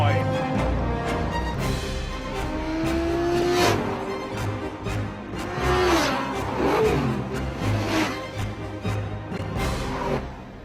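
A fast Audi A8 car accelerates on a highway, its engine note rising loud and steady with gear changes and a sustained roar that swells and fades across the stretch, wind and road noise underneath.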